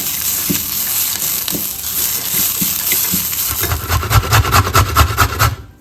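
Dried coconut dry roasting in a pan for a broad bean stir fry, heard as a steady dry rubbing and scraping of a stirring utensil that turns into quicker, rhythmic scrapes before stopping abruptly.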